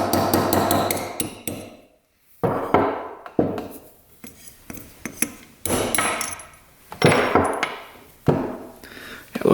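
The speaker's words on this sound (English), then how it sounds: "We're going to punch out the emulsion tube." Sharp metallic hammer strikes on a punch, driving the clogged emulsion tube out of a quad carburetor, landing in uneven bursts of close, ringing taps separated by brief pauses.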